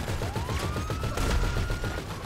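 Gunfire in GTA V Online, a dense run of repeated shots over a continuous game backdrop with a rising whine, loud and steady for about two seconds.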